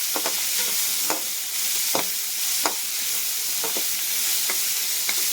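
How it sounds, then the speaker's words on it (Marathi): Chopped onions frying with whole spices in a pan, a steady close sizzle broken by several sharp stirring scrapes at irregular intervals. "आता आपण त्याच्यामध्ये कांदा कापून घेतलेला आहे ते आपण मिक्स करणार आहोत. चांगला ब्राऊन करून घ्यायचा."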